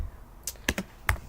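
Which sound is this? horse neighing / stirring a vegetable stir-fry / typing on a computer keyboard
typing on a computer keyboard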